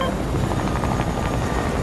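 Loud, continuous helicopter rotor chop from a video game, heavy and droning with a steady pulsing beat, close and filling the clip with no talk.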